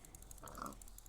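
A single faint pig oink or grunt from a farm animal in a video game, brief and soft over quiet background game sound.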